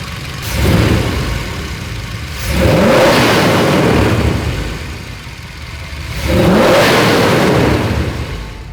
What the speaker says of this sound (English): So we got the truck all running good.